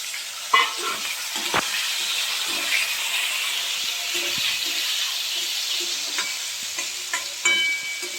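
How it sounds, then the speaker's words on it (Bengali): Potatoes and pumpkin fry in a pan with a steady, soft sizzle. Occasional clinks and scrapes of stirring are heard close by. "আলু আর কুমড়োগুলো আমি একটু ভেজে নেবো"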